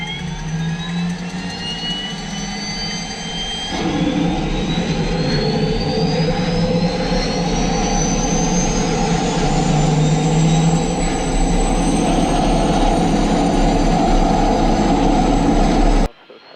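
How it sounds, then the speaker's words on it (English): A Walter turbine engine on a CA6.2T aircraft spools up during startup, a loud rising whine climbing steadily over a deep roar that thickens partway through, then cuts off abruptly. "and the engine will start."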